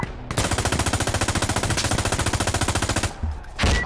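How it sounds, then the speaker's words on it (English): Automatic weapon fire in the shooter game Insurgency Sandstorm rattles out as one long, rapid, evenly spaced burst lasting about three seconds, close and loud, followed by a short pause and a final louder blast. "Got incoming rounds."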